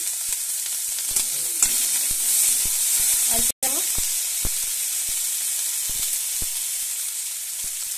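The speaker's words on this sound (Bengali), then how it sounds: "তেল দিয়ে এটাকে ভালো করে কাঁচা গন্ধ যতক্ষণ না আসছে আমি এটা নাড়তে থাকবো অনবরত" Ginger and onion paste fries in hot oil in a pan, a steady close sizzle across the whole stretch with scattered scrapes and taps of stirring and one brief dropout.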